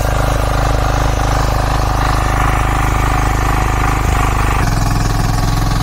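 A tractor-mounted sugarcane ridger machine runs in a field, its engine chugging loud and close in a steady, even rhythm throughout, with a slight drop in pitch toward the end and no voices.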